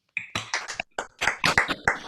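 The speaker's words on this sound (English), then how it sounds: "let's hear a round of applause for all of our winners" Participants in an online awards reception clap for the winners through their microphones, giving a few close, uneven bursts of hand claps with gaps between them.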